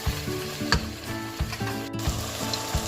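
Vegetables cooking down in a soup pot sizzle steadily up close, with rhythmic stirring scrapes and clinks of a spoon against the pot recurring throughout.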